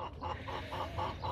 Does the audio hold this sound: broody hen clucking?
yes